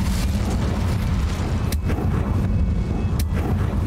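A fire spell cast in Hogwarts Legacy unleashes a heavy roaring whoosh of flame with deep rumbling body, plus a couple of sharp bright crackles along the way, loud and continuous throughout.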